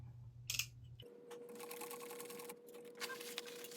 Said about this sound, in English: And I'll sew the triangle.